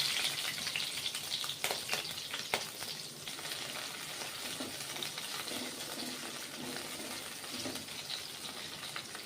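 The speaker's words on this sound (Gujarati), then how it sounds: "આપણું તેલ ગરમ થઈ ગયું છે તો આપણે વઘાર કરીશું સૌપ્રથમ લીલા મરચાં" Green chillies sizzling in hot oil as a tempering for thecha pav, giving a loud, dense, continuous close sizzle with a few stirring clicks early on and no voices.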